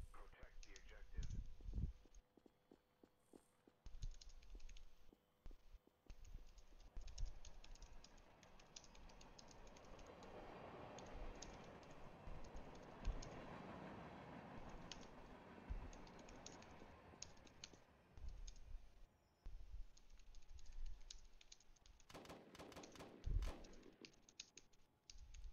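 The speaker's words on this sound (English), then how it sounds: "Rip, I was typing." Fast, continuous clicking of a computer keyboard during a Roblox gaming session, with dense, uneven keystrokes close to the microphone, a voice talking faintly underneath, and a louder cluster of taps near the end.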